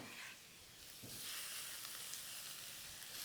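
Pork frying in a wok over medium-high heat, a quiet, steady hissing sizzle that swells slightly partway through and carries on evenly, with no speech over it.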